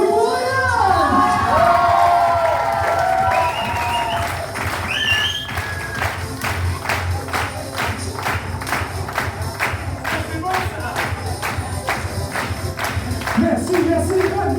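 A stage show audience cheers and shouts for the host, then settles into loud, steady rhythmic clapping in unison that continues throughout, with scattered whoops and voices mixed in.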